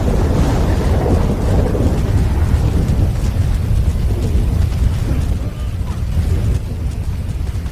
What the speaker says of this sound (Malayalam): മഴയാണല്ലോ, പിന്നെ മഴയല്ലേ.